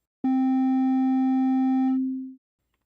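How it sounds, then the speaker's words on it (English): A single steady synthesizer tone starts abruptly, holds evenly for about two seconds, then fades away, alone with no other sounds. "a sine wave consists of a single frequency with no overtones"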